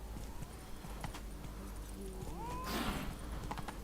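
Hooves of the horse Roach clip-clop at a steady walking pace in The Witcher 3, with a whinny-like tone near the end and faint game ambience underneath.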